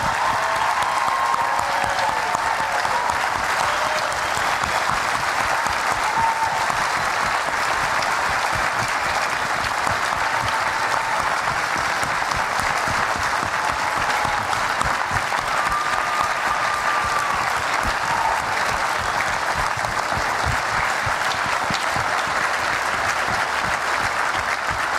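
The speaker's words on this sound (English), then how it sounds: "please stand so we can all give you a round of applause" Sustained applause from a gala audience, a thick, even wash of many hands clapping that holds steady from start to finish with no break.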